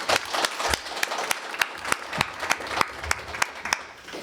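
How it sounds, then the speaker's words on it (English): A modest audience at a library legislative forum claps for the legislators, a light patter with distinct individual claps standing out in a fairly steady rhythm. "Let's give them a round of applause."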